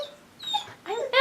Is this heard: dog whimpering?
yes